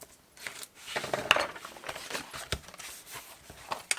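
Backing is peeled off a flat panel in a series of close, irregular crackling and tearing bursts with brief pauses between pulls.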